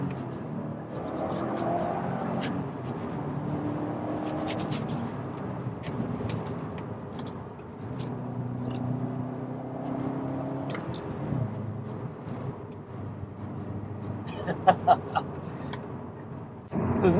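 A Subaru Impreza STI S202 bug-eye accelerates through the gears from first, its engine note rising and dropping with each shift, heard steadily from inside the car with someone talking over it.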